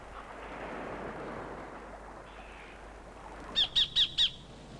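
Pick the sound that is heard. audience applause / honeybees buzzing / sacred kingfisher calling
sacred kingfisher calling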